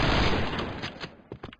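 Rapid bursts of gunfire in the video game Point Blank crackle loudly, a dense volley at first, then a few separate sharp shots near the end.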